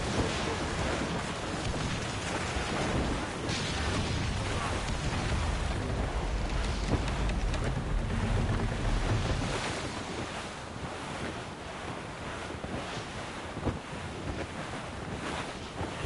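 A storm at sea in the video game Assassin's Creed Rogue, with loud, continuous roaring wind and crashing waves around a sailing ship, easing slightly partway through.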